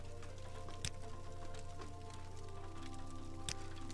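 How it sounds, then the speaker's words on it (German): Soft, steady patter of rain beginning in a retro role-playing game, faint and even, with a steady low hum beneath and a couple of brief sharp clicks. "Jetzt fängt es bei mir zum Regnen an."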